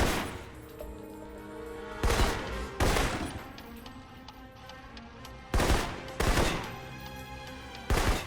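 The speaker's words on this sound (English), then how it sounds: "For long-range encounters, the assault rifle's the key. It's accurate, powerful. Just be sure to line up your shots carefully." Assault rifle fire in the video game Alpha Protocol, with loud sharp bursts of several rapid shots separated by pauses of quieter game ambience and music.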